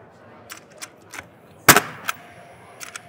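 A Paslode cordless nail gun fires into wood, giving several sharp snapping shots at irregular intervals, one much louder burst in the middle, with faint clicks between.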